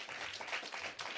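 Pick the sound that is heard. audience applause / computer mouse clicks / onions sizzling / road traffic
audience applause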